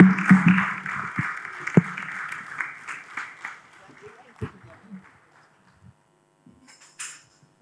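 Audience applause for panelists at an investor summit demo day, a burst of clapping fading into scattered claps and quiet, with a voice speaking over the start.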